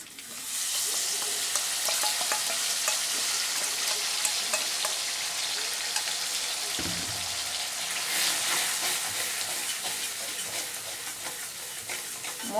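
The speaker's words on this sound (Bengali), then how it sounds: "মশলাটা অল্প জল দিয়ে দিয়ে ভালো করে কষিয়ে নিতে হবে, কাঁচা গন্ধ যাওয়া অবধি এবার তেল ছাড়া অবধি" Spiced masala paste fries in oil in a pan for a vegetarian bottle gourd and moong dal dish, a steady dense sizzle with faint stirring scrapes running evenly throughout, close and fairly loud with no talking.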